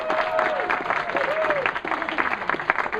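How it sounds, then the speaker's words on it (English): An audience applauds for a technical assistant during a live presentation, with a continuous wash of clapping and crowd noise and some voices mixed in. "can I have a round of applause for our technical assistant?"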